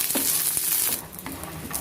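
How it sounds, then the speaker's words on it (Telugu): Peanuts and green chillies fry in a little oil, a bright, close crackling sizzle that dips briefly partway through, with light stirring scrapes and no talk. "ఇలా కొద్దిగా ఆయిల్లో మనం పల్లీలు వేయించుకోవడం వల్ల చాలా ఫాస్ట్గా వేగిపోతాయండి"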